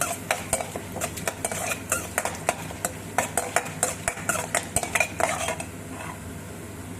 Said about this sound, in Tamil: இது நல்லா பொரிக்கிட்டுங்க.